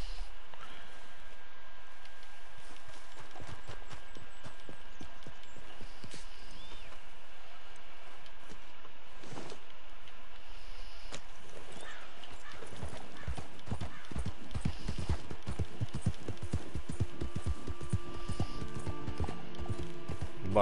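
A horse's hooves clip-clopping over ground in a video game, a continuous run of close hoofbeats that grows busier and louder toward the end, with no talking.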